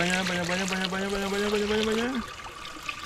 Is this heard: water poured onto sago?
yes